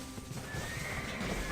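Horse whinnying with clip-clopping hooves in the video game Black Desert, the mount unable to sprint; a steady, continuous whinny and hoofbeat texture sits over dense game ambience, fairly faint.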